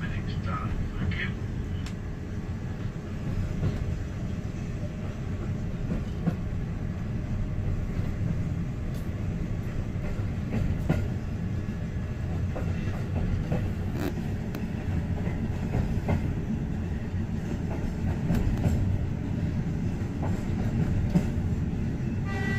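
A heritage train hauled by locomotive NCB No. 6/5197 rumbles steadily along the rails between Cheddleton and Froghall with a low continuous roar and scattered clicks, heard from inside a carriage, with faint voices in the background.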